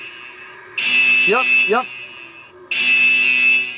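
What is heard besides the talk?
alarm going off in a vault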